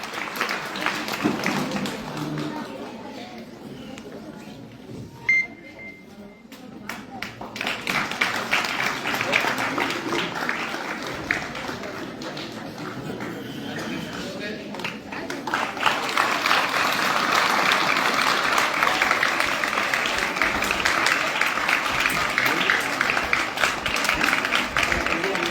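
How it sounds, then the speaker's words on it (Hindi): Loud audience applause welcoming a legislator at a block-level free bicycle distribution event in Mukundgarh, continuous clapping that swells louder in the second half, with a few voices mixed in. "जोरदार तालियों से स्वागत कीजिए।"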